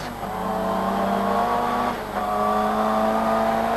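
A Ford Sierra RS500 Cosworth Group A race car, roughly 500 horsepower in a saloon body, drives on the road. Its engine holds a steady, loud drone, shifts pitch briefly midway and then carries on.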